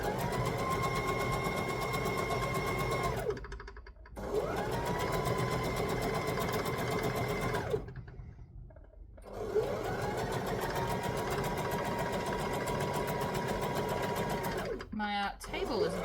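A sewing machine stitches a lap quilt, running in steady bursts of rapid whirring interrupted by short pauses, close and clear, with a brief clatter of a backstitch at the end.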